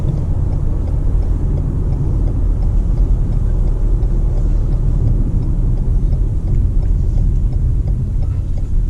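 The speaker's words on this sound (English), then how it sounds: "since we have it in Sport Plus, it's very loud, and the accelerator is so sharp" A 2019 Lexus NX300 F-Sport engine in Sport Plus mode roars steadily and loudly up close while accelerating, a deep continuous rumble with a fast ticking texture throughout.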